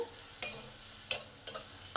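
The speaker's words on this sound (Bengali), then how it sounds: "আদাটা দিয়ে দিলাম আদাটাকে এক মিনিট ভেজে নেবো" Grated ginger frying with onions in a pan for an aloo chop filling, heard as a low steady sizzle broken by three sharp scraping stirs, close and moderately loud, with no talking.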